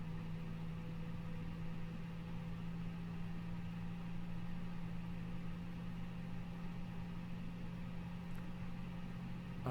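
An A32NX airliner engine starts up in Microsoft Flight Simulator 2020, giving a steady, faint mechanical hum with a constant tonal drone that holds unchanged throughout, with no voices over it.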